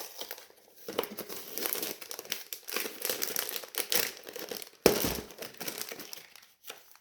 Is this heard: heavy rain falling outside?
no